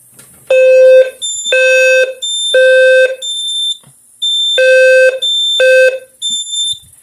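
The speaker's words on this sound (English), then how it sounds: "once the detector resets, the detector shuts off. And yeah, these are quite loud." Notifier smoke detector alarm sounding during a fire alarm system test: loud, piercing electronic tones in repeated pulses of roughly half a second to a second, with short gaps, very close and dominant.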